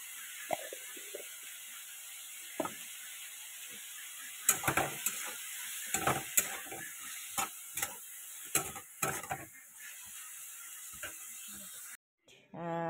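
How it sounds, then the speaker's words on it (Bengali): Vegetables fry quietly in a pan under a soft, steady sizzle, with a cluster of sharp scraping and clattering stirring strokes through the middle before the sound cuts off near the end. "ভালো করে এটাকে ভেজে নেব।"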